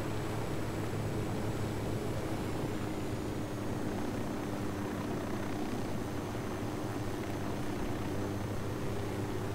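Helicopter flying in Ghost Recon Wildlands, a steady droning rotor and engine hum with constant broadband noise and a sustained tonal whine, unchanging and close throughout.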